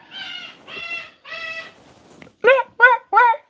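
A pet parrot vocalizes with three loud, sharp, warbling squawks in quick succession, after a softer series of harmonic calls, close to the listener.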